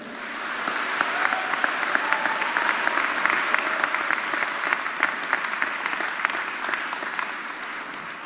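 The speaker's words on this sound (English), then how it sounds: "give them a big round of applause" Sustained applause from a large crowd at a university spring convocation in Saint John, New Brunswick, Canada, steady and fairly loud throughout, dense clapping with no pauses.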